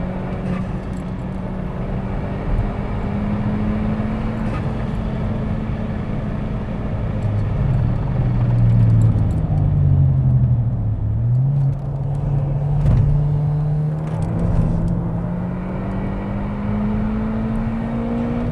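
A car on Goodyear Eagle F1 Supersport tyres accelerates, heard from inside as a loud, steady engine drone that climbs in pitch, dips briefly and rises again over constant road rumble.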